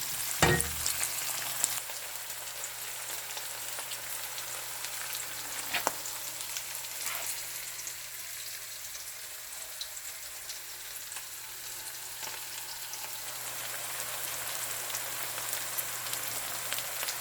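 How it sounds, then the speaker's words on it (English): Garlic sautés in a pan with a faint, continuous crackling sizzle that stays steady and quiet for the whole stretch, with a few soft clicks and nothing else over it. "add your garlic and saute them until slightly golden brown or translucent"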